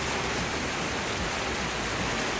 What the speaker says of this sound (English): Well, it is raining hard.